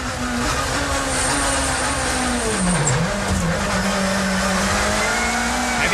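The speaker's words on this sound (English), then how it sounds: "Watts hits the rev limit in fifth, up to sixth." A 1990s touring race car engine screams at high revs on track, a loud, sustained, near drone with its pitch briefly dipping and climbing again, as at a gear change.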